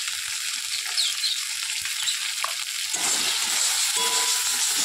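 Onion with ginger, cumin and garlic paste fries in a pan with a close, steady sizzle, growing a little louder midway as the paste is stirred in.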